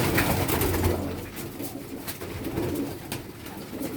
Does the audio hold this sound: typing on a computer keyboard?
no